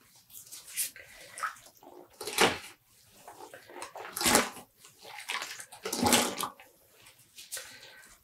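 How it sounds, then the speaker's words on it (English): Wet dyed cotton yarn squeezed by hand without twisting, giving several separate bursts of sloshing, trickling water at uneven intervals, fairly close and soft, with no talking. "I'm not twisting or wringing the yarn, just squeezing the water out."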